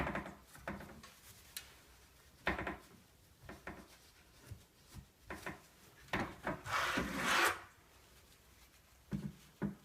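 A rag rubs and wipes excess grease from the rubber seal of a bearing on an aluminum arm for a Replicator 3D printer, making soft, close scuffing strokes in irregular bursts, with one longer, louder rub near the end.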